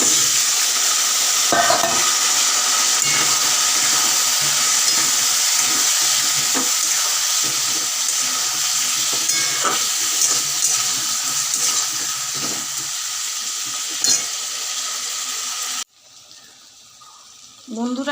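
Potatoes and bay leaf frying with fried onion in a pan for a fish-head muri ghonto, giving a steady sizzle with occasional stirring scrapes that cuts off near the end.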